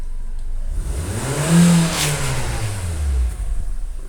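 A car engine revs in a narrow alley, rising and falling in a couple of swells of throaty roar, close and fairly loud with no voices.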